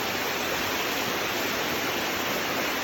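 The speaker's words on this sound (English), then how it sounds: "Here we are at the waterfalls that the hike originally was supposed to lead up to." Roaring waterfall in the Lower Sierras on a hike, a loud, dense, unbroken rush of falling water close by with no voices over it.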